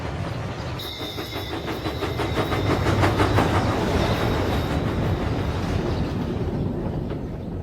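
A train labors up a hill, its steady rumble joined by rhythmic clattering from the wheels, loud and continuous with no voices.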